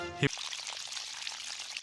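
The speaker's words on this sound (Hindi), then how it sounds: "शिनचैन पौधों में पानी डाल रहा है" Water poured over plants in a cartoon, a steady soft splashing stream that begins right after a brief tonal sound and runs on alone, moderately loud.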